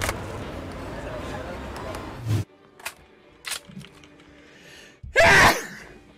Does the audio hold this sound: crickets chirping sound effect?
no